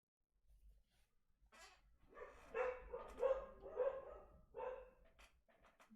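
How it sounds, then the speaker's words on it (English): Several dogs bark in a run of sharp, repeated bursts that grow louder through the middle and then taper off, heard from some distance with no talk. "Dogs are going crazy."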